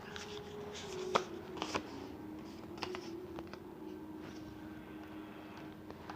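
Tarot cards are shuffled and handled for a reading, soft riffling and flicking with a few sharper snaps near the start, all fairly quiet over a low steady background hum; no one speaks.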